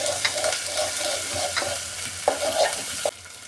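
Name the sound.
ginger onion paste sizzling in oil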